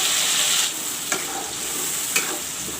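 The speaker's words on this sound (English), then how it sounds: "the masala is frying" Masala and onion paste frying in oil for a katla fish curry, a loud, close, continuous sizzle with a couple of sharp stirring clicks.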